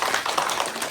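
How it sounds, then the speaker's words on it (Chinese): Applause from a live audience at a premiere and reaction event, a steady dense patter of many hands clapping that holds evenly through the whole second. "掌声欢迎"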